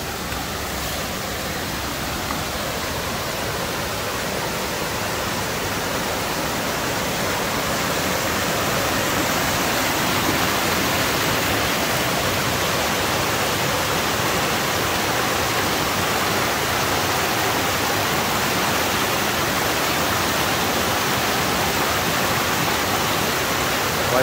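Water from the Forestport Feeder canal pours into the Lansing Kill gorge, a steady loud broadband rush that fills the scene unbroken with no voices.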